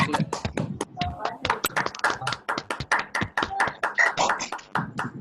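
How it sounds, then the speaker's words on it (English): A small audience at an Independence Day event claps in an uneven, moderately sized round of individual hand claps, fairly close and distinct, with voices talking over it. "you can clap"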